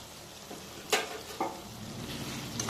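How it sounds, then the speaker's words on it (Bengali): Ginger and garlic paste sautés in a pan with a low, quiet sizzle, broken by a couple of sharper spatula scrapes near the middle of a short stretch. "দিয়ে এটা ভালো করে কষিয়ে নেব"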